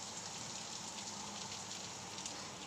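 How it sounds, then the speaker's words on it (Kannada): Rain falling steadily outdoors after a heavy downpour, a soft, continuous hiss of drops on surfaces, faint and even, with no voices. "ನೋಡಿ, ಮಳೆ ಎಷ್ಟು ಜೋರು ಬರ್ತಿತ್ತು, ಇವಾಗ ಸ್ವಲ್ಪ ಕಮ್ಮಿ ಆಗಿದೆ"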